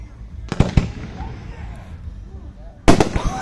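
Two sharp bursts of backyard Fourth of July fireworks boom in Kansas a few seconds apart, each followed by a short crackling tail. Quiet evening background fills the gap between them.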